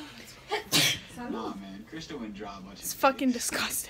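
One sharp sneeze bursts out near the mic early on, followed by close, casual talk between people indoors.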